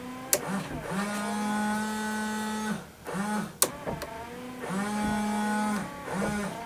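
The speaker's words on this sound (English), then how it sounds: "Let's go ahead and try out our rear washer nozzle." Rear windshield washer pump on an EG hatchback whirs with a steady electric whine and hiss of spray through the nozzle, running in two long bursts and several short ones, loud and close, with no talking.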